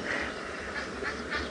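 An Egyptian goose honks faintly and at a distance during a fight with a hammerkop over a nest on an early-morning safari. A series of four or five rough, nasal calls repeats over low background rumble.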